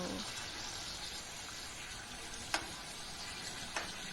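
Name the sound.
amla (gooseberry) frying in a pan for chutney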